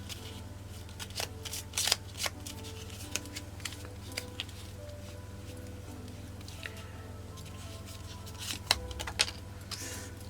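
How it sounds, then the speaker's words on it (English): A deck of playing cards being shuffled, soft riffling and flicking bursts spread through the clip over a constant low hum, close and fairly quiet. "Let's have a shuffle and see what we come up with."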